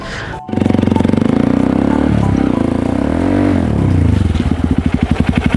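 A new motorcycle's engine roars close and loud, revving and shifting pitch as it brakes to a stop at a gate, then settles into a steady pulsing idle.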